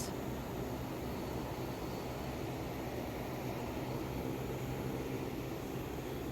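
Steady broadband cabin hum of a full airliner during boarding on a TAAG Angola flight from Madrid to Cape Town, a constant whooshing roar of air conditioning with no distinct events.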